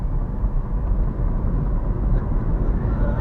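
A car accelerates hard onto a highway, a steady loud engine and road roar that stays broad and even throughout, like an airplane taking off.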